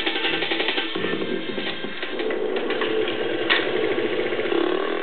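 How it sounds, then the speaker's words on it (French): A Honda Dax 50cc small motorcycle with a clutchless gearbox and chrome exhaust idles nearby, a steady mechanical chatter and hum running continuously without speech. "cette petite moto atypique de 50 cm3 signée Honda et appelée Dax"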